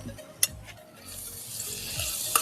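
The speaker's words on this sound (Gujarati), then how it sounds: "હવે નાખી દઈએ વટાણા, બટાકા. ચાલો ટામેટા પણ નાખી દીધા, એને થોડું ચડાવી દઈએ." Peas, potatoes and tomatoes tumble into a cooking pot for khichdi, with soft stirring scrapes and a low sizzle, a sharp clank near the start and another at the end.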